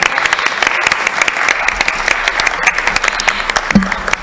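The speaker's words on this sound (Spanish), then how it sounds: "Un aplauso y bienvenida." Audience applause welcoming a speaker at a panel discussion on women and class struggle, a steady, dense burst of clapping from a room of people filling the whole moment at even loudness.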